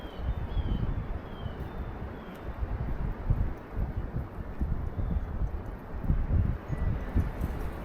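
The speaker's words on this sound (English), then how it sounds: "The wind's picking up, so you're not going to be able to hear me much longer." Steady outdoor wind gusting and buffeting close to the microphone, with rumbling low-end swells rising and falling throughout, near and fairly loud, with no talking.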